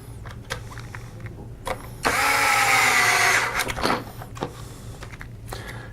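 A power driver whirs for about a second while driving a screw into a motor housing during a front motor replacement, amid light clicks and handling noises.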